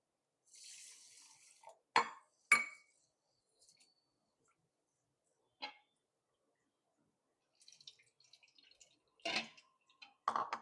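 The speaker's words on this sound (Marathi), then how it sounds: "अजून एक पाण्याने धुवून घेऊ." Rice for sweet coconut rice is rinsed by hand in a bowl of water, with quiet, sparse splashes and sloshes separated by long silences and occasional drips, while crickets chirp faintly in the background.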